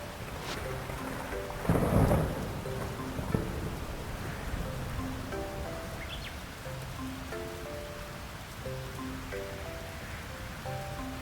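Rain and thunder in the farming video game Fields of Mistria, a steady patter of rain with one loud rumbling thunderclap early on, under soft melodic game music.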